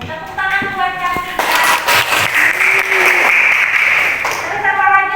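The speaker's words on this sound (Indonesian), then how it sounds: "Tepuk tangan buat Cakri." Applause breaks out for a student named Cakri during a classroom geography lesson, a few seconds of mixed clapping with voices speaking over it throughout.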